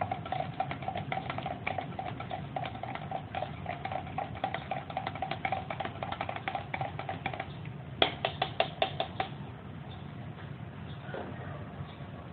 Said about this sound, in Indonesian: Kita aduk terus sampai benar-benar rata.